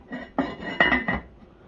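A metal lid set onto a pot of beef soup on the stove, a short run of three or four close clinks and rattles as it settles, fairly quiet with no talk.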